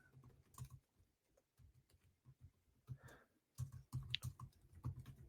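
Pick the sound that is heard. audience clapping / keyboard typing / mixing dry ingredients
keyboard typing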